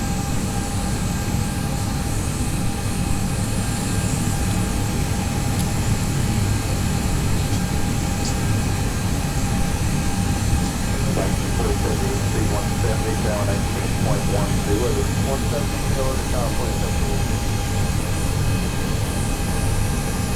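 Airbus A320 with CFM engines at TOGA takeoff thrust in a flight simulator game, a loud steady engine roar and whine lasting throughout, with people talking over it.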